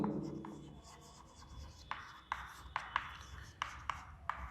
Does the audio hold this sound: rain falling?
no